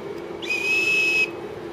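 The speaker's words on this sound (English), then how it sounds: "Fairly standard whistle." A small plastic survival-kit whistle gives one steady, shrill blast lasting under a second, loud and close, with no other sound around it.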